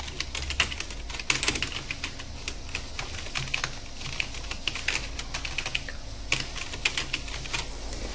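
Continuous typing on a computer keyboard, with quick irregular key clicks and occasional sharper taps, close and fairly steady for the whole stretch, with no talking.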